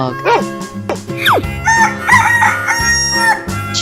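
A rooster crows once in a rising, drawn-out call with strong harmonics, close and loud, amid other animal-like sounds in a playful sequence of animal noises.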